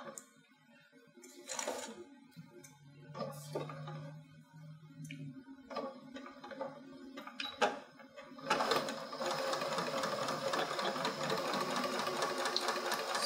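A sewing machine stitches tape onto a zip bag, starting with scattered clicks and short bursts, then settling into a steady, loud whirring run that continues to the end.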